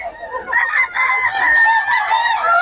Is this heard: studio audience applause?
no